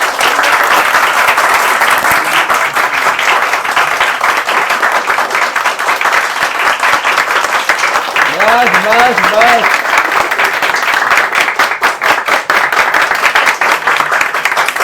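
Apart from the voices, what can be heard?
students applauding at end of lecture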